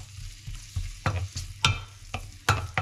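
Onions stir-frying in a pan for a spicy salmon with black beans dish, with repeated scraping stir strokes and short bursts of sizzle over a low steady hum, close and fairly quiet.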